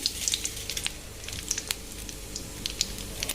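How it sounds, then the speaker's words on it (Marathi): Cumin and mustard seeds sizzling in hot oil in a small pan, a close, steady crackle with quick sharp pops and spits scattered irregularly over a low frying hiss. "तेल छान गरम झाल्यावर जिरे आणि मोहरी टाकून घेऊया"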